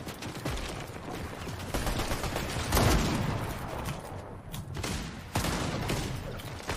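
Gunfire from a competitive battle-royale video game strikes the player: dense rapid shots and impacts crackle close and loud without pause, with a heavier burst in the middle and no talking.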